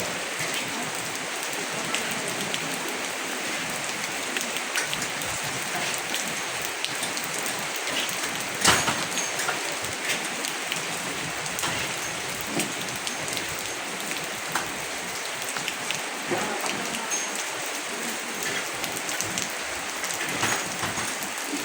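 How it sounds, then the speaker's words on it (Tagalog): Heavy rain pours steadily onto surfaces in a continuous dense hiss, loud and close, with a brief sharper burst partway through and no voices. "Ang lakas ng ulan."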